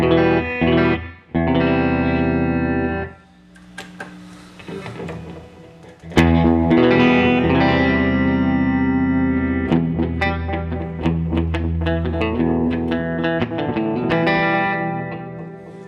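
Distorted electric guitar chords through a VFE Yodeler and other effect pedals run in parallel ring out loud and thick, with a brief quiet gap before heavier chords and riffs resume, washed in chorus and reverb.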